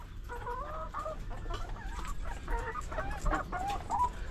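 Chickens cluck steadily and fairly close inside a coop, with several overlapping birds and a low background rumble throughout.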